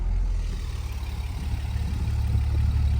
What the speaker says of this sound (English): Okay, so let's fire it up, see how the motor runs.